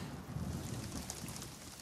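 Steady cartoon rain with a low rumbling thunder-like wash beneath it, a constant soft downpour with no talking.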